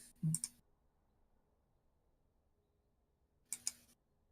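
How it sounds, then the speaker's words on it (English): Two short bursts of sharp clicking, near and crisp, one at the start and another a few seconds later, each a quick double click, separated by near silence. "Stop clicking it."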